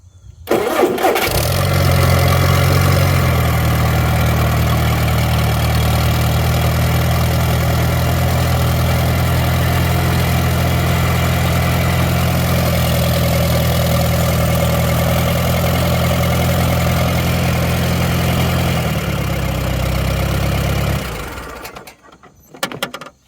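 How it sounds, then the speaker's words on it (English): An Allis-Chalmers D12 Series II tractor engine cranks and catches, then idles with a steady low rumble for about twenty seconds before shutting off abruptly. "Starting the tractor, give it a little throttle, make sure it's in neutral."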